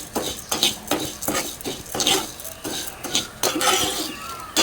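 Urad dal stir-roasted in oil in a pan, a close, rhythmic scraping of a spoon against the pan with soft sizzle, repeating strokes roughly every half second.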